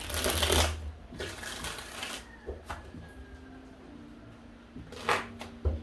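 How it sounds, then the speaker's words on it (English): Tarot cards are shuffled in a few quick riffling bursts, close and crisp, separated by quiet pauses and light taps. "5 shuffles."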